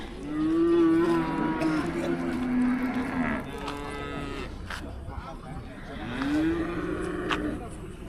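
Cattle moo repeatedly at a night cattle market, with long, loud bellows near the start and again toward the end over steady crowd and yard noise.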